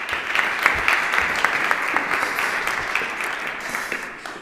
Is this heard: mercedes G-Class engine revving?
no